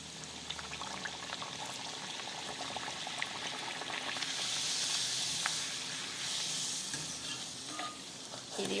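Tomato puris deep-frying in hot oil, a continuous close sizzle and hiss that swells louder partway through as more dough goes in, with faint stirring scrapes and no talk.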